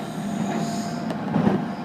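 An express train runs along the track on a Japanese mountain line, giving a steady rumbling roll with a faint wheel squeal and a brief clack partway through, with no voices.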